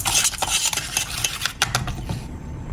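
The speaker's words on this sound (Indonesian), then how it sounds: "Selanjutnya ini aduk-aduk sebentar." A spoon stirs and scrapes a cocoa powder mixture around a pot, with light metallic clinks in a quick, uneven rhythm, close by.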